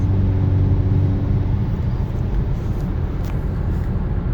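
A 2018-or-later Kia Stinger with a newly installed sub frame collar kit cruises on a test drive, its steady engine drone and road rumble heard from inside the cabin, constant and fairly loud.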